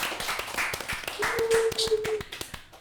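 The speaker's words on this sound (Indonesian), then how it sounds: "Kita berikan tepuk tangan untuk kita semua di podcast ini" Hand clapping from a few podcast participants in a studio, a run of evenly spaced sharp claps close by, with voices talking over it and a brief tone in the middle.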